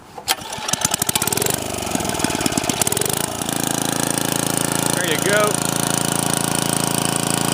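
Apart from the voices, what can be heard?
Troy-Bilt rototiller engine starting and running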